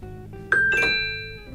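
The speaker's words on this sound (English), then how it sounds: "Every single little icon makes a very cool sound effect." Bright chime from a Nintendo Switch 2 menu icon: a single clear electronic ding with sustained tonal harmonics that rings out and slowly fades over a faint background hum.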